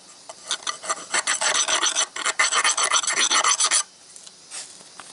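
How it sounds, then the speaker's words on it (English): A long bolt's threads rasp back and forth through a hole in a big truck's auxiliary gearbox, scraping old silicone off in a quick, steady run of close scratchy strokes that stops abruptly, followed by a faint scrape. "you can just use a bolt, a long bolt that fits through there. Threads on the bolt will cut that silicone off of there."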